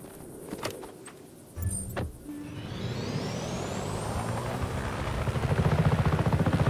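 A helicopter in the Just Cause 3 video game winds up after a few clicks and clunks, its rotor building into a loud, steady, rhythmic chop with a rising whine.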